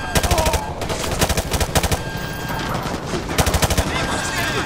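Rapid bursts of automatic gunfire from Call of Duty: Modern Warfare 2 Remastered, loud and close, firing in quick repeated volleys with brief pauses between them.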